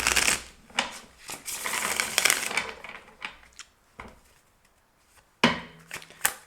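Tarot cards being shuffled and drawn from a deck, with a burst of riffling and flicking in the first few seconds, then scattered soft card slaps and taps, and a final sharp flurry near the end.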